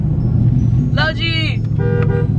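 A car horn gives short tooting honks over the loud engine rumble inside a Dodge Charger 392 Widebody on the road. The honks come in two bursts, close and clear.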